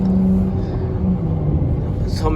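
A 2018 Dodge Charger V6 accelerates on a busy highway in Mexico, its steady low engine rumble and road roar filling the cabin, loud and continuous with a faint rising tone.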